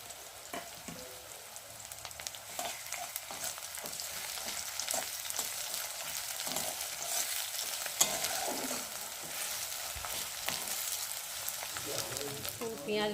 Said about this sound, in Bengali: পেঁয়াজ লঙ্কা ভালো ভাজা হয়ে গেছে